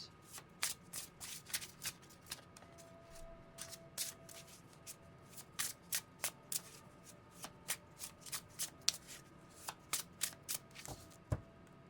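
Oracle cards being shuffled by hand during a tarot reading, a quiet run of crisp, irregular riffling flicks and slaps in close succession with no talking.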